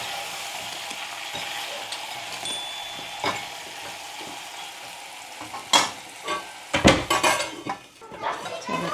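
Small brinjals and a spice mixture sizzle in a pan while a utensil scrapes and clinks against the metal, the stirring growing louder and more clattery toward the end over a steady fry.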